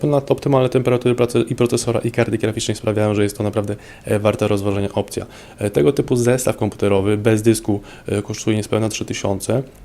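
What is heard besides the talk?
No everyday noises stand out.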